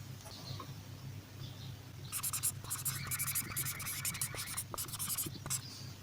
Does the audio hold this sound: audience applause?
no